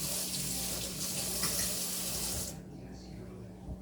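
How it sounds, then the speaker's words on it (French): Tap water runs over a fork at a kitchen sink while an omelette with cheese cooks. A steady, close rushing hiss lasts about two and a half seconds, then cuts off abruptly, leaving quiet room tone. "Et c'est important de rincer la fourchette."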